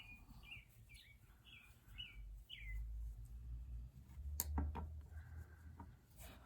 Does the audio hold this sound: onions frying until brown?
no